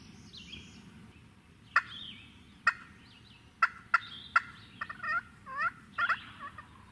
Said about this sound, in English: That bird's still gobbling.